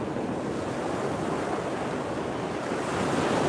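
Ocean waves wash steadily onto a beach where someone is beach fishing, a loud continuous roar of surf with wind buffeting the microphone and no voices.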